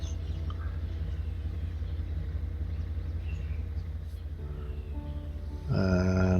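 Video game train rolling steadily forward onto a turntable, a constant low rumble with a faint tonal hum, ending in a louder rise of harmonic engine or brake tones.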